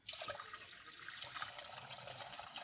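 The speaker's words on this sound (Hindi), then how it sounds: "फिर इसमें हम मिल्क डालेंगे, दूध" Milk poured into a pan while cooking vegetable macaroni pasta, a steady liquid pour lasting throughout, close and fairly soft with no voices.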